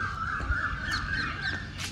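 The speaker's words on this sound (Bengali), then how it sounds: "এই যে চারিদিকে পাখির আওয়াজ" A crow caws loudly and steadily nearby, with other birds chirping faintly in the background.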